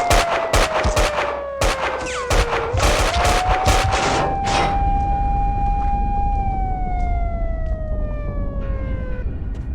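A dense volley of police gunfire in Max Payne 2 opens loud and rapid, then gives way to a wailing siren that rises and falls over a steady rumble.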